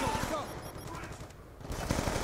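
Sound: gunfire in Black Ops 2 video game

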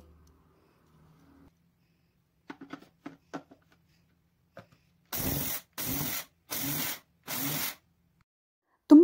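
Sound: mixer grinder run in reverse, coarsely grinding jowar

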